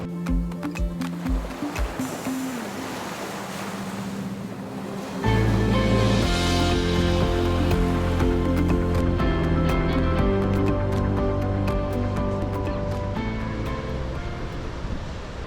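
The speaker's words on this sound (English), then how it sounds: "doing a little bit of beach hopping, and we've started here at Twilight Cove" Ocean surf washes onto the beach at Twilight Cove in Esperance, Western Australia, a steady, loud rushing roar with a droning tonal layer running through it from midway on.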